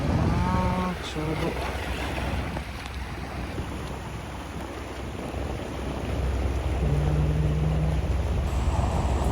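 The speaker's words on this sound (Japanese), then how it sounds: "ちょうど波と波がぶつかっているんだな" Ocean waves surge and collide near a rocky shore at Manazuru, a continuous loud rushing wash with wind, while a voice speaks briefly at the start and again toward the end.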